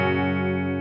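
A sustained electric guitar chord rings through an IK Multimedia TONEX amp model with a wash of added reverb, steady and fairly loud for under a second.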